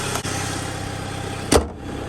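A Chrysler PT Cruiser with a heater core bypass runs steadily while driving, giving a continuous mid-level engine and road rumble with a brief louder thump about two-thirds of the way through.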